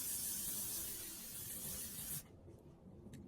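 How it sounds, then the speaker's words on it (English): L'Oreal Infallible 3-second setting spray misted onto a face: a steady close hiss of spray lasting about two seconds, then cutting off into quiet. "So now we're going to spray."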